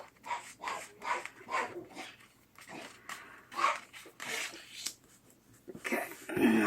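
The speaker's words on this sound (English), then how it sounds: "They bark at everything, even if there's nothing." Dogs bark indoors in a series of short, irregular yaps at moderate distance, fairly faint, with a few pauses and a whimpering note near the end.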